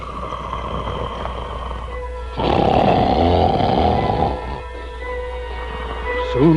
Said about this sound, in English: the castle trembled with his snores